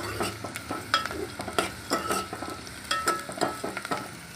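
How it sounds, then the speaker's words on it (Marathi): Black cumin (shahjeera) fries with browned onions in a pan, a steady close sizzle broken by repeated scraping stirs from a spatula, with no voices. "आता यामध्ये शहाजिरे टाकून झाले. हे थोडं फ्राय करून घेतोय."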